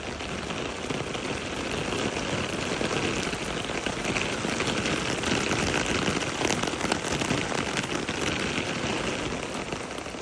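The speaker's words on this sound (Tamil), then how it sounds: "ரொம்ப சைலண்ட்டாக பெய்யும் மழை இந்த மாதிரி அதிகமாக பெஞ்சது கிடையாது" Heavy rain pours steadily outdoors, a dense, loud, unbroken hiss that lasts the whole stretch with no voices.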